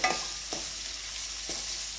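Capsicum fries in oil in a pan for fried rice, a steady close sizzle broken by three soft stirring scrapes spaced about a second apart, with no voices.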